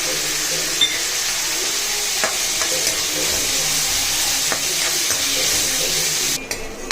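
Tomato and cashews sautéing in a pan, a steady, close hiss and sizzle of frying with occasional soft clicks of stirring, continuous and fairly loud throughout.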